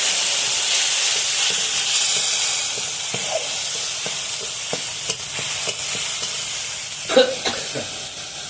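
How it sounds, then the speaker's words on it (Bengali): Ginger paste and red chili paste hitting hot oil in a pan, a strong steady hiss with scattered crackles and a few spoon taps, growing busier near the end. "এখানে আমি আদা বাটা আর লাল মরিচ বাটাটা ঢেলে দিচ্ছি"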